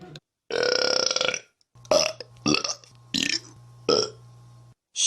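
A loud human belch sounds close up, a long rasping burst followed by several shorter croaking burps in quick succession, with brief silences between and no talk.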